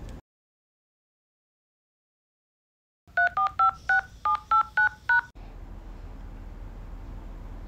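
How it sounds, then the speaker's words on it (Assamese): Eight crisp touch-tone beeps sound in quick succession as a phone number is keyed in, followed by a steady faint line hiss after a stretch of silence. "তেন্তে মই তেওঁক আজিয়ে ফোন কৰি কৈ দিওঁ।"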